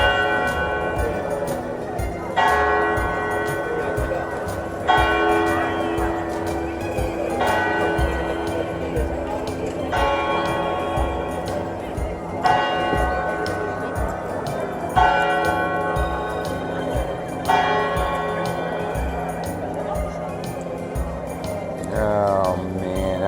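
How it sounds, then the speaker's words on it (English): Church bells ringing in Italy, a series of loud, resonant strikes repeating at a steady slow pace, each ringing on with a long decay over faint street ambience. "Oh man, I love the bells."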